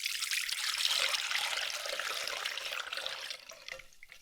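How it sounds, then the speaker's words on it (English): Fir needle infused vinegar pours through a fine wire mesh strainer, a steady close splashing trickle of liquid that tapers off toward the end, with no talking. "So we're just gonna have our fine wire mesh strainer here and we're gonna pour it through"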